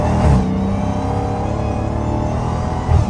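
A Dodge Hellcat revs hard, with tire spin on weak, treadless tires and a slight exhaust leak; the loud engine roar runs steadily for about three seconds, swelling at the start and again near the end.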